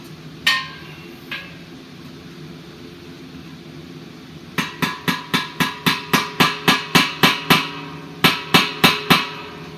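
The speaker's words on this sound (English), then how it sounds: "So that's what the hammer and the screw for." Hammer strikes on a beer keg while working the cork out: two isolated knocks, then a fast steady run of about a dozen loud, sharp metallic blows, a short pause, and three or four more.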